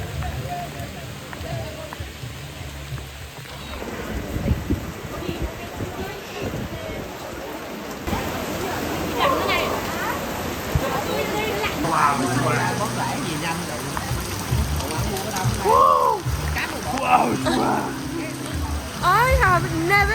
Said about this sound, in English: I have never seen rain like this before.